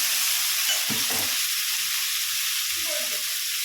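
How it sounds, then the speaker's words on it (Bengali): Onion stalks fry in hot oil in a pan, giving a loud, even, continuous sizzle close by, with a couple of faint stirring knocks early on and no talking. "দেখো ভাজা ভাজা হয়ে এসছে। এবার এর মধ্যে আমি পেঁয়াজ কলিগুলো দিয়ে দেবো"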